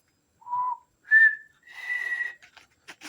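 A person whistles a short tune up close: a few clear, separate notes, one rising and one held, then brief breathy trailing sounds.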